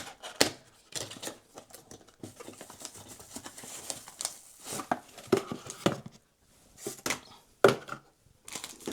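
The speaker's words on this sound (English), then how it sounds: "So we have got a seal over here, which I'm just going to peel away." A protective seal is peeled off a GameSir X5 Lite Type-C mobile game controller box, giving close, crinkly tearing and plastic rustling in uneven bursts throughout, with no talk.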